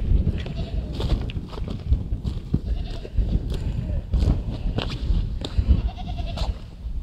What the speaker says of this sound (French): Que les corbeaux là au sommet, les chèvres qui rôdent du pâturage.